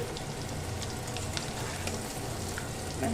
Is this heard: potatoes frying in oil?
yes